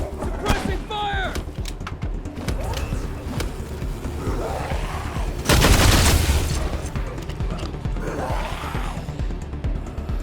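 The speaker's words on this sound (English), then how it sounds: "Suppressing fire!" Suppressing gunfire in the Wasteland 3 video game, a dense loud volley bursting out midway through the scene above ongoing battle noise, with voices talking around it.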